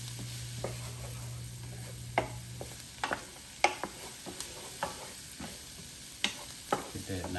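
Green onions sauté inside a Power XL electric cooker. A low sizzle runs throughout while a spoon scrapes and clicks against the pot in irregular, sharp taps, and a steady hum fades out early.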